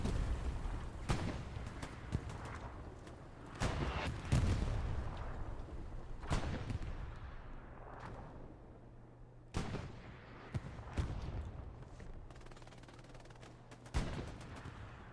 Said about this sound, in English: Artillery is landing right where the garrison is, which is always exactly what you want to see.